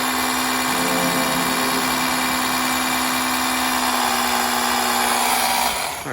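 A battery-powered Ryobi sprayer pump sitting in a bucket runs steadily as it primes, giving a loud continuous motor whine and buzz nearby that holds constant, then cuts off at the very end.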